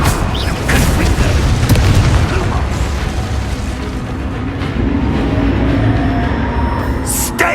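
Confringo fire spell blast in the Hogwarts Legacy video game, a loud rumbling boom with crackling burst energy sustained across the clip, close and heavy.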